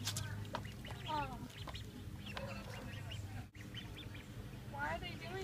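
Ducklings quack and peep in short rapid bursts close by, while a person talks and imitates their quacking.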